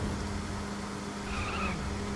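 Steady engine drone of a car driving in The Crew video game, with a faint tire squeal partway through. It is continuous, mid-loud and unbroken, with no voices.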